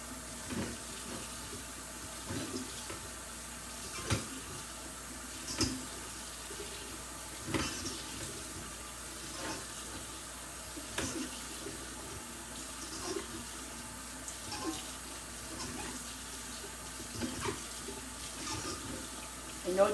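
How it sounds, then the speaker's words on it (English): Tap water runs steadily into a kitchen sink while vegetables are rinsed under it, a continuous splashing hiss with small irregular bumps as the produce shifts, close and moderately loud throughout with no talking. "Let's rinse these off then."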